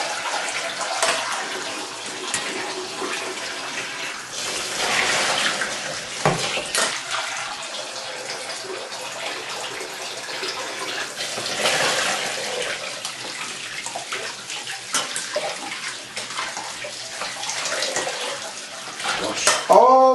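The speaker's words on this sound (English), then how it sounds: "put it under the tap and wash the starch off it" Steady broadband rush of tap water running and splashing over rice grains, continuous for the whole stretch with brief swells and a few faint clinks.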